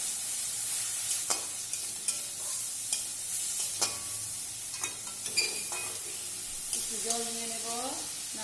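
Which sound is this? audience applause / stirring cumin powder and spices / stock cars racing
stirring cumin powder and spices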